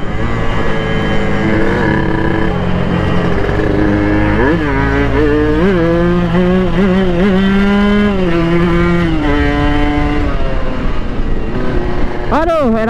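Motorcycle riding in third gear, loud engine drone with rising and falling pitch as it accelerates, a rider talking over it throughout.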